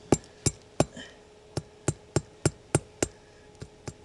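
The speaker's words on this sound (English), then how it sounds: "I'm gonna grab my hammer" Hammer blows drive a nail to pin a trap into frozen ground, about a dozen sharp, evenly spaced strikes up close, tapering slightly softer at the end.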